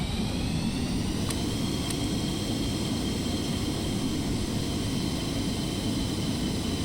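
Jet engine running in the Stormworks game, a steady broadband roar with a high whine held at constant pitch. Two brief sharp clicks sound near the start.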